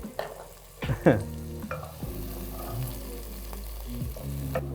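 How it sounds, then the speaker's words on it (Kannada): Chopped medium onion frying over medium heat for a raw banana curry, with steady sizzling and a few sharp stirring scrapes of a spoon against the pan, close and alone without talk. "ಇದು ತಿಳಿ ಕಂದು ಬಣ್ಣ ಬರುವವರೆಗೂ ನಾವು ಇದನ್ನ ಫ್ರೈ ಮಾಡ್ಕೊಳ್ಬೇಕು ಮಧ್ಯಮ ಉರಿಯಲ್ಲಿ"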